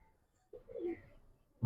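A single short low coo from a pigeon in a Bengali pigeon seller's collection of Giribaz and coloured pigeons, close and soft, in an otherwise quiet moment.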